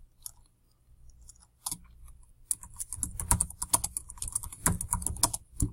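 Rapid clicking of a computer keyboard being typed on, sparse keystrokes at first, then a dense, steady flurry of close, crisp key presses with no voices.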